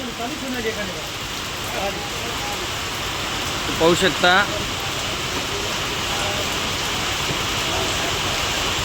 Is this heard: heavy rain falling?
yes